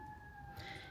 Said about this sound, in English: Well, there's sirens in the distance.